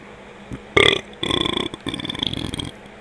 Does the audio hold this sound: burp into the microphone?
yes